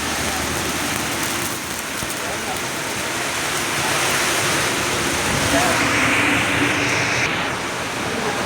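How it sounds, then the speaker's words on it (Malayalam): Steady heavy rain hisses outside, a dense wash of noise filling the whole clip with no pauses. "നല്ല മഴയുണ്ട് കേട്ടോ പുറത്ത് അതുകൂടെ നോക്കിയോ"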